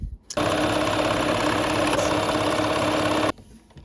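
A sewing machine stitches quilt blocks with blue snowflake corners in one steady, loud, fast run of about three seconds, starting and stopping abruptly, with no talking.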